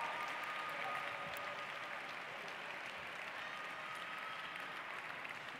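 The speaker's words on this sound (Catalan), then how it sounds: "Anem fent aplaudiments, no?" Steady audience applause fills a graduation ceremony hall, dense even clapping continuing throughout at moderate level with no voices on top.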